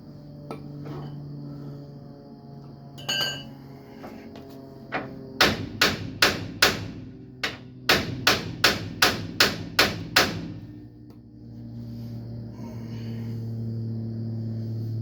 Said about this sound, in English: pickle fork's hitting the bolts and the control arm there